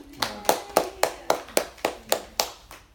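A small audience at a church family meeting clapping in a quick, even rhythm, about ten sharp distinct claps close by over a few seconds, with no talk over them.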